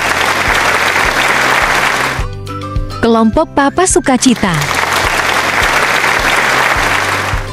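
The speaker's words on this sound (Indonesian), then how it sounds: "Mari kita sambut dengan tepuk tangan." Audience applause at a church cooking competition, as cooking groups are introduced; steady dense clapping fills the room, broken midway by a brief spoken announcement over a PA, then resumes loud and continuous.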